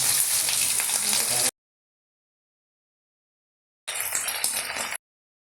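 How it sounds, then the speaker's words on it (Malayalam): Chilli chicken pieces frying in hot oil in a pan, a bright, steady sizzle heard close up in two bursts, the second shorter, separated by silence. "ശേഷം ഒരു പാനിൽ എണ്ണ ചൂടാകുമ്പോൾ അതിലേക്ക് ഇട്ട് വറുത്ത് കോരുക."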